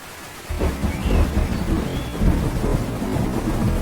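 Heavy cartoon rainstorm with a steady, dense roar of pouring rain and rumbling thunder, starting after a brief quiet moment and continuing loud and unbroken to the end, with no voices.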